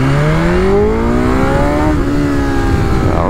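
A BMW S1000RR motorcycle accelerates hard from a standstill in a 0-100 run, its loud engine note climbing steadily in pitch, easing briefly and then rising again near the end, recorded close with no talk.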